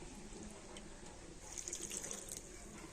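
A bowl of water is poured into a pan holding date palm jaggery, a soft, quiet trickle and splash that grows a little fuller midway, heard alone without talk.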